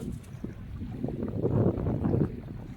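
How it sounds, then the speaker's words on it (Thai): A boat out on Songkhla Lake, with wind and small waves lapping at the hull, a soft, low, irregular wash of water and breeze at a faint level, with no speech. "นี่คือบรรยากาศในทะเลสาบสงกลานะครับ วันนี้ก็พี่ลมมีคลื่นนิดหน่อย"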